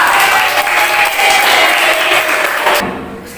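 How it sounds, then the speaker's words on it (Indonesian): Classroom applause for a student named Aisyah during a teacher-training lesson, dense steady clapping from a group that carries on for about three seconds before tapering off at the end. "Beri tepuk tangan untuk Aisyah."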